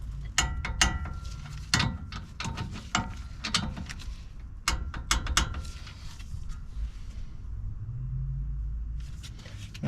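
An angle torque wrench tightening lug nuts on a Ram truck wheel, with irregular bursts of sharp ratcheting clicks and metallic clanks over a low rumble, close by and without speech.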